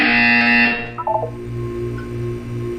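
Buzzer tone in Portal 2's Aperture Science wellness exercise, a steady electronic buzz ringing loud for under a second, then cutting off into a short chiming blip and a low hum.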